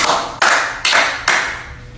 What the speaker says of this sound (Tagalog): bigyan niyo ng 3 palakpak